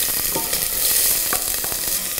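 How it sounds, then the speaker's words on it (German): Chopped onions and garlic sizzle and fry steadily in a pan for a spinach risotto, with occasional stirring scrapes, close and continuous. "Rein mit dem Zwiebeln und dem Knoblauch."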